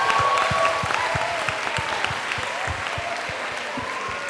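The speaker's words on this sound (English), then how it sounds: "Clapping is in order." Delegates at a Model United Nations session applaud steadily after a resolution passes, a continuous wash of clapping with distinct hand claps, sustained throughout at moderate loudness.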